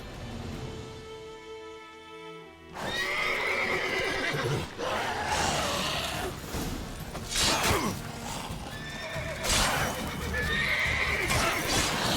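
A horse whinnies loudly amid busy sounds in the video game The Witcher, hooves clopping and mechanical clatter, with a tonal hum fading out at the start.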